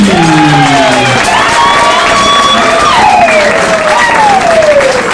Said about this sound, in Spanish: un fuerte aplauso para el grupo de los alfonsinos